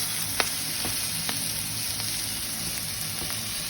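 Mushrooms sizzle steadily in hot oil in a pan, with occasional soft clicks and scrapes of stirring over the constant crackle.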